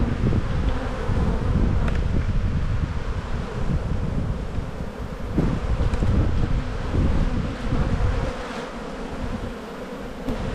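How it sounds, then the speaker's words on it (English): Many bees buzzing steadily around a beehive box during spring buildup, a dense continuous hum close to the microphone with light wind and rustle underneath. "Got a few bees clustered down the bottom here on the side of the box."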